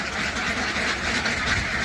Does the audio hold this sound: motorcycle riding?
no